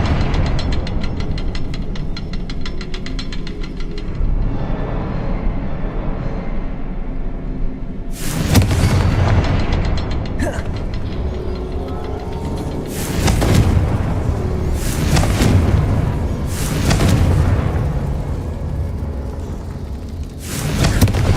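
Confringo fire spell blasts in Hogwarts Legacy: a run of loud booming explosions, about six, at irregular intervals over a dense, rumbling game soundtrack.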